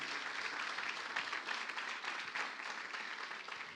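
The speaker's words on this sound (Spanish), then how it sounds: "un aplauso, ¿cómo no, para Manuel" A church congregation in Barakaldo applauds during a service, a dense, even patter of clapping that sounds faint and distant and continues without a break.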